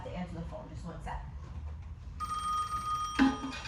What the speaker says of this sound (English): I just have to answer the phone.